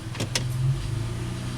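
A Nissan Murano engine idles slightly high in park, a steady low rumble and hum that stays even and close throughout with no speech over it.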